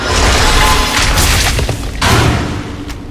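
A spell explosion in a heroic World of Warcraft raid bursts out as a loud, dense boom, dropping back, then a second heavy blast near two seconds and a faint crack at the end.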